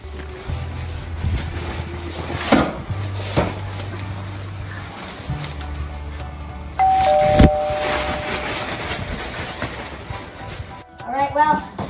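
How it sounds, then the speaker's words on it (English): A chiming doorbell rings with a bright tone over steady background hum and some clunking handling noise, followed by a short rattling jingle. "Oh, I hear the doorbell."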